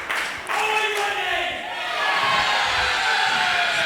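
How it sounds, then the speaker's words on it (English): Fiery crowd at an amateur boxing bout in Harold Hill, a steady roar of cheering and shouting that swells and stays loud throughout, with scattered claps mixed into the dense crowd noise. "The crowd in Harrod Hill are proper fiery today"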